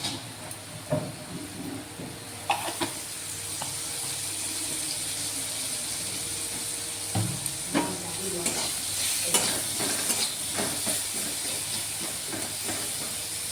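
Vegetables sizzle and hiss in hot oil in a pan while being stirred for a tamarind-flavoured lunch dish, a steady frying hiss broken by scraping stirs and clatters of the spatula, close and fairly quiet.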